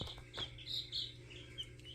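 Baby Silkie chicks in a brooder give faint, high, scattered peeps and tweets over a low background rumble.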